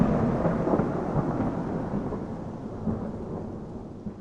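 Thunder within a composed audio tour piece: a deep, rolling rumble that swells and slowly fades across the whole stretch, loud and broad with a rain-like hiss beneath, no voices.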